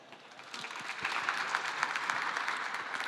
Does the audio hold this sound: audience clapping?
yes